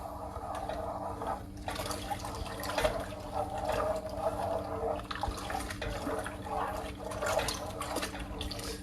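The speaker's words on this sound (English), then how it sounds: "I'm going to pour this custard over those cookies and bananas" Thick homemade custard poured from a pot over layered cookies and bananas for banana pudding, a steady wet glugging pour with splashy surges, close and moderately loud, no talking.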